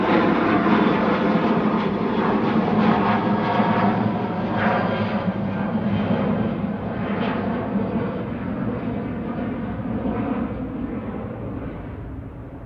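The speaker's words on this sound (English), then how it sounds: "We've got an EasyJet on approach." An EasyJet airliner on approach to Manchester Airport gives a steady, loud broadband roar that holds through the whole stretch and fades slightly near the end. There is no talk over it.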